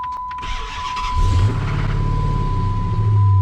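A Dodge Magnum engine fires up with a short cranking whir, then settles into a steady close idle with a faint minor knock under the low rumble.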